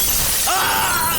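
A glass drop shattering, a sudden bright crack and tinkling burst of breaking glass that rings briefly at close range, with no talking.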